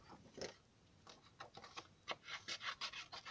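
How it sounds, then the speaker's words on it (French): Small paper flowers are being cut out for a handmade card, giving a run of faint, close snipping and rubbing sounds that quicken toward the end. "Donc, moi d'abord, je découpe large. Je découpe mes deux petites fleurs."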